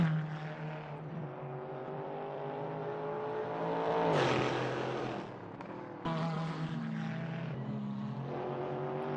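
GT3 race cars, including a Ferrari, lapping Bathurst in a sim racing game, with sustained engine whine rising and falling through gear changes and a sharp shift cut midway, loud and continuous without talk.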